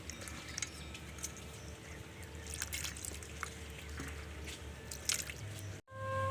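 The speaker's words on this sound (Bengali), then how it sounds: "আলু কাটা হয়ে গিয়েছে, এবার আলুগুলো আমি ভালো করে ধুয়ে নেব" Cut potatoes being rinsed by hand in water in a home kitchen, soft squishing and dripping splashes at close range, fairly quiet, with a brief dropout near the end.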